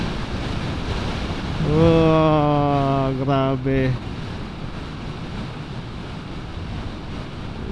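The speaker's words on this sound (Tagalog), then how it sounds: "sobrang lakas ng alon" Strong ocean waves crash near a lighthouse on a windy Philippine coast, a broad steady roar of surf and wind noise on the microphone, with excited voices exclaiming over it midway through.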